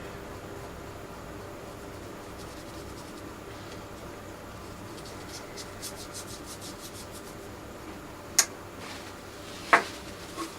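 A cloth rubs finish into the wood of a Victorian-style pier shelf, a soft, steady scrubbing hiss with a faster stroking patch midway and two brief knocks near the end, close and alone.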